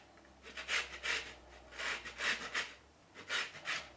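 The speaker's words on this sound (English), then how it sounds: "Now I've taken the 2 oranges and scraped off the skin, which is what's called zesting." Two oranges are zested, their skin scraped in short, rhythmic rasping strokes that come in quick pairs and clusters, close and fairly quiet.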